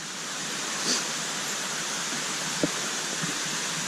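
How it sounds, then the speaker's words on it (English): Rushing waterfall along a rocky, root-crossed hiking trail in Ricketts Glen State Park, heard as a steady broadband roar that fills the whole clip, with a couple of faint brief knocks near the end. "you get lots of rewards of waterfalls"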